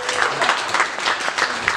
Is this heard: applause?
yes